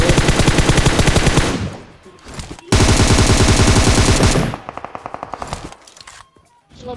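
Rapid automatic gunfire in a battle royale shooter, two long loud bursts of fast rhythmic shots separated by brief gaps, then a few slower single shots and clicks, with no talking over it.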